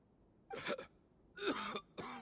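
A character in the Genshin Impact video game coughs in three separate harsh, close fits, each with a rough, voiced burst, with short quiet gaps in between.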